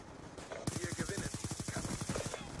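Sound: M8A1 gunfire in video game Black Ops 2

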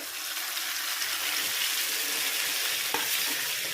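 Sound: pounded raw mango tomato chutney sizzling in a pan

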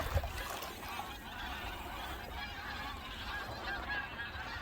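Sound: birds calling near the shore

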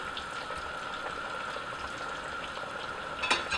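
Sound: breaded cheese frying in oil

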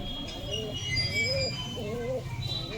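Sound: pigeon cooing

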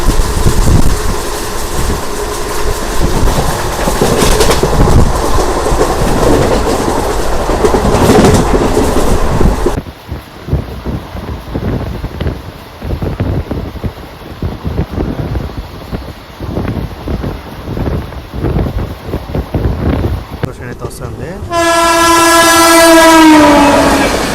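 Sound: train arriving at station

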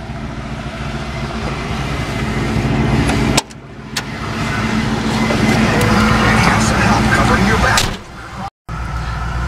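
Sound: 1986 Mustang GT car driving

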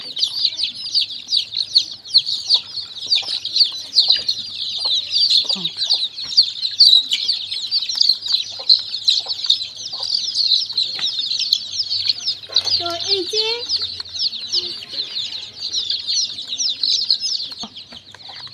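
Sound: desi chickens clucking

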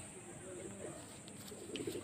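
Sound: Shira pigeons cooing

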